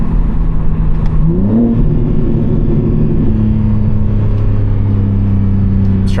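A BMW G80 M3 engine revs loudly and steadily up close, its pitch climbing through a downshift from third to second gear and then holding a strong, constant drone.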